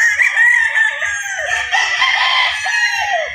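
Young rooster, a stag, crowing loud and close in a single long drawn-out call, with faint low thumps underneath and no talk.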